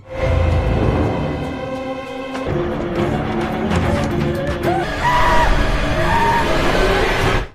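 A woman screams shrilly, her cries rising and wavering over a dense, loud background.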